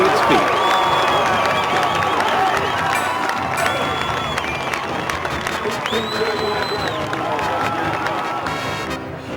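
A high school football crowd roars and cheers after a twirling touchdown run, loud and sustained with scattered clapping and whistles, while a narrator's voice carries over the noise throughout.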